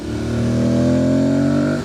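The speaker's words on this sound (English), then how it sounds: "As well as probably a lot more noise from the engine," A motorcycle engine drones steadily as heard from inside the rider's helmet, a loud, sustained hum that holds even pitch for about two seconds with no speech.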